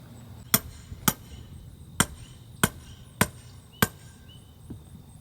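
An extra stake is hammered into the ground at a concrete form on an off-grid house build, six sharp, loud strikes at uneven intervals ringing out over quiet background.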